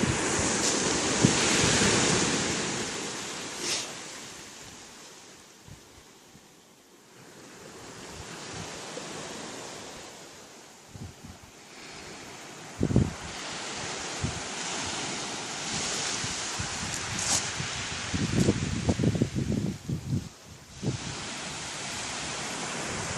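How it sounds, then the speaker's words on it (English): Small ocean waves wash onto a beach on a windy day, a continuous surging hiss rising and falling, with gusts of wind buffeting the microphone and occasional bumps. "All those waves are small compared to what they were."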